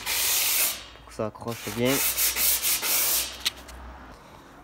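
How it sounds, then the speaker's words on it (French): Hand sanding with 240-grit paper on a repainted car trunk lid, a steady abrasive rub with a brief voice speaking midway through the strokes. "en premier temps on va mettre un coup de ponçage 240"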